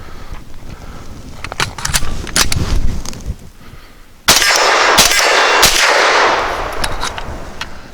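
Definitive Arms AKX-9 pistol-caliber rifle firing 115-grain Speer Gold Dot hollow points: a string of sharp, loud shots with metallic clangs and ringing steel-target hits, spaced irregularly, then a dense burst of rapid fire.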